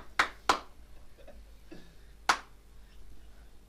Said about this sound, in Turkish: El çırpma makinesi yine geldi.